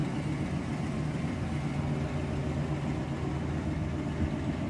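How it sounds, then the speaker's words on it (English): Steady low rumble of a 1977 Pontiac Bonneville coupe's dual exhaust with Flowmaster mufflers, idling constantly, moderately quiet, with no voices. "Just had the duals put on it with the Flowmasters. Listen to them."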